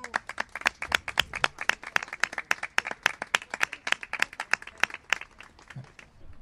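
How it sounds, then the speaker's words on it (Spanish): A small outdoor crowd at a cold-weather rally about railway tracks claps in brisk, steady applause, a dense run of sharp hand claps lasting several seconds, fairly distant. "¡Un aplauso!"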